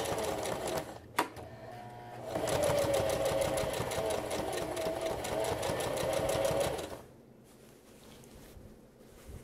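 A domestic sewing machine stitching a garment seam and backstitching, with a short burst and click, then a steady fast mechanical whir with rapid needle chatter for several seconds before stopping, close and clear.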